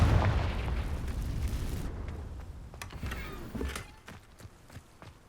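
Confringo fire spell explosion in Hogwarts Legacy, a heavy boom at the start that rolls off into a rumble, followed by several sharp cracks and pops that fade toward the end.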